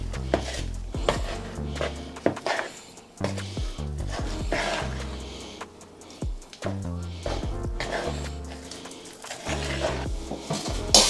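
Focaccia dough with a little baking powder worked in a bowl, giving irregular thumps, scrapes and knocks of utensil against the bowl, fairly close, with no talking.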